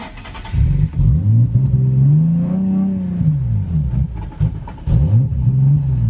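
A project car with suspected faulty O2 sensors struggles and revs unevenly, the engine surging and sagging in long rising and falling sweeps, loud and close, with a short stumble near the end.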